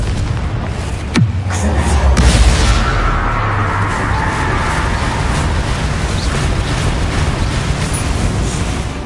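A Confringo blasting spell detonating in Hogwarts Legacy inside a tomb, a sharp crack followed by a heavy booming explosion that rolls out into a long, roaring rumble and lingering crackle.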